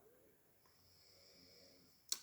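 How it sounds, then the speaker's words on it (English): Soft, slow snoring from a sleeping animal, faint and close, with a sharp louder snort or sniff at the end. "Sorry about the snoring."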